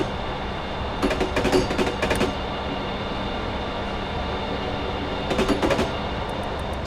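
A train coasting on the Woodhead route between Sheffield and Manchester in Train Simulator 2017, with a steady rolling drone and two bursts of rhythmic clickety-clack over rail joints.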